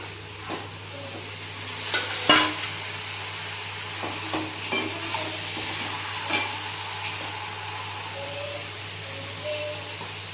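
Chicken stirred into fried ginger-garlic masala for a chicken gravy, with a steady sizzle and hiss throughout and several clear scraping stirs and knocks of the spoon against the pan.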